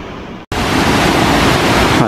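Mountain waterfall in the Carançà gorge in the Pyrenees, a steady, loud broadband roar of falling water close by that starts abruptly after a brief silence and holds even through the clip.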